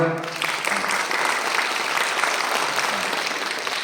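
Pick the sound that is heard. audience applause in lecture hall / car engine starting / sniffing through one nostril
audience applause in lecture hall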